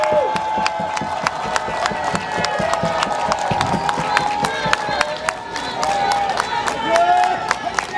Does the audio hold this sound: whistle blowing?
no